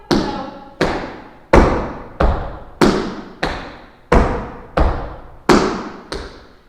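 Tap shoes strike a hard floor in a reverse cramp roll, heel heel toe, with about ten crisp, separate taps at a slow, fairly even pace, each one ringing briefly before the next, and no voices are heard.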